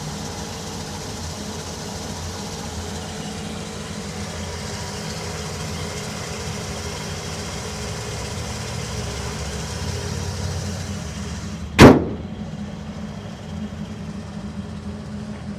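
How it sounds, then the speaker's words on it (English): A steady low rumble of a 1970 Chevy C10 pickup's crate V8 idling through its exhaust runs throughout, with a single sharp loud transient near the end. "Exhaust sounds super cool."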